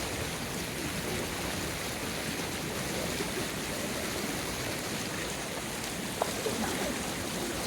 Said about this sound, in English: Watching the water go by